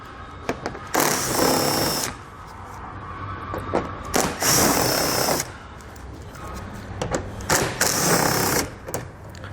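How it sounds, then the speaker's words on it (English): A powered ratchet spins an 8mm socket to back out black bolts from the outer fender panel of a 2017 Chrysler Pacifica, in three close, loud whirring bursts of about a second or two each, separated by quieter shop background. "Now we're going to switch over to our 8mm socket. We're going to have these black bolts on the outside panel as well."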